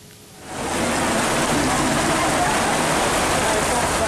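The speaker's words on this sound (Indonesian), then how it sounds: "Inilah detik-detik saat hujan badai menerjang kawasan barak pengungsian di Desa Glagaharjo, Kecamatan Cangkringan, Yogyakarta, Kamis petang." A heavy rainstorm pounds refugee evacuation tents in Glagaharjo village, Cangkringan, Yogyakarta, near Merapi. It swells after a quiet half-second into a loud, continuous roar of downpour.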